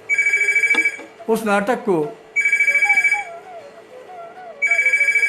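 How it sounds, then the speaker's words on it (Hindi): A telephone ringtone goes off during an arts talk, repeating electronic ring bursts in regular pulses, with someone speaking briefly between the rings. "एक फ़ोन आ रहा है"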